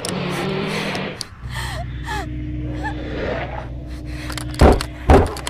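A girl's breathing in the horror video game Notes of Obsession: soft gasps and sighs, then two sharp, loud breaths close together at the end over a low ambient hum.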